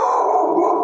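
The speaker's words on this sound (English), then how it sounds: "He's a sweet dog." A one-year-old German Shepherd gives a single loud, drawn-out bark close by, almost a howl, lasting under a second with no other sounds around it.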